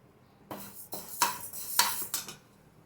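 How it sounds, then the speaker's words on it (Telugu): Moong dal is dry-roasted in a pan, and a utensil scrapes and clinks against the metal in about five even, close strokes with no talking. "ఇలా దోరగా వేపుకోవాలి పెసరపప్పు"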